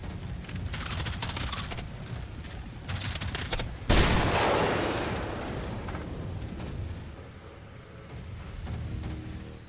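Sustained automatic gunfire in the game Generation Zero, a dense rattling barrage with one heavy blast in the middle followed by a long rumbling decay before the shooting picks up again.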